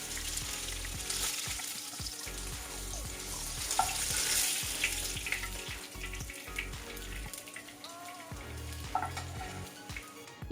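Fish frying on a flat iron tawa in a home kitchen, a steady broadband sizzle with scraping and clinks from turning the pieces, with a brief trickle of running water partway through.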